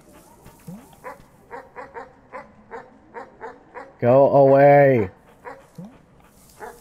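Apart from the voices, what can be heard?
dog barking in video game Animal Well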